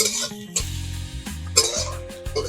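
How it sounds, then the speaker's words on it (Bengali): Onions fry with salt in a pan over an outdoor wood fire, a soft sizzle broken by a few sharp clinks and scrapes of a spoon stirring against the metal, close and moderately loud. "আমি একটু লবণ দিয়ে দিচ্ছি লবণ দিলে পেঁয়াজটা তাড়াতাড়ি ভাজা হয়ে যাবে"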